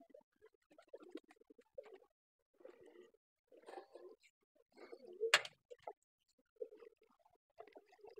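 Pigeons in a pigeon farm at feeding time, cooing in soft, repeated low bursts with short pauses, close by in a quiet space, with a sharp knock or flutter midway.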